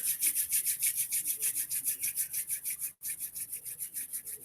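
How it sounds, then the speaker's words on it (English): Palms rub briskly together at the end of a meditation, making a steady rhythmic swishing friction sound with about three strokes per second and one brief pause, close and alone without talk. "Rub your hands together."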